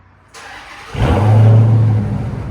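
Chrysler 300 swapped with a Hellcat Redeye engine, fitted with headers and a muffler delete, revs hard: a quiet idle swells into a loud, deep exhaust roar that holds steady before easing slightly.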